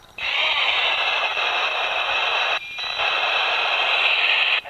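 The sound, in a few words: CB radio transmission coming through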